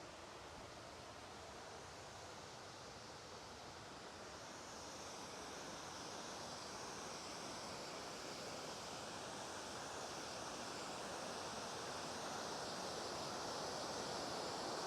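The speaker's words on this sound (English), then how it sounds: "there's a lot of waterfalls" Steady rushing water from a waterfall in July low flow roars continuously, a dense broad wash of falling water with no pauses or voices.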